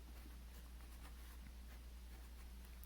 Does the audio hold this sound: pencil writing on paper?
yes